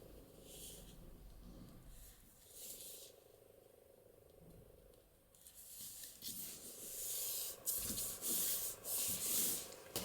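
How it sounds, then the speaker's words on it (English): Paper being rubbed and burnished along an envelope fold in a papercraft journal project, soft scraping strokes at first that grow louder and more insistent in the second half, with no talking. "And burnish that."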